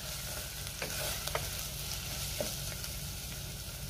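Turmeric, garam masala, chili powder and coriander stirred in a hot pan for a dal, a steady dense sizzle with a few light spoon scrapes, close and quiet.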